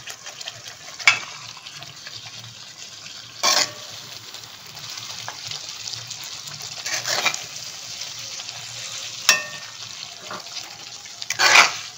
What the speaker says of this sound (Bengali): ফুটে যাওয়ার সঙ্গে সঙ্গে আমি যে মাছগুলো ছিল এই মাছগুলো এর মধ্যে ছেড়ে দেবো।